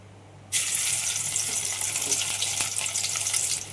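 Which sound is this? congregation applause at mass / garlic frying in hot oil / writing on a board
garlic frying in hot oil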